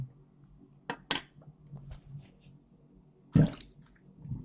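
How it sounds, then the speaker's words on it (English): A plunger works a blocked sink with water, wet squelching pushes and sloshing spaced out with a sharper splash and clatter near the end, quiet and close. "Okay, so plug out, plunger on."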